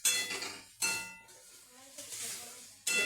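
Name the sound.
mixing ingredients in cooking pot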